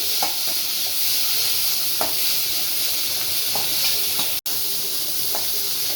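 Tomatoes sauté in hot oil for a chicken curry, giving a steady close sizzle and hiss with a few soft stirring scrapes and one brief sharp knock.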